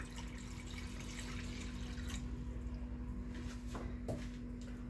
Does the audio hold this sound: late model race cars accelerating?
no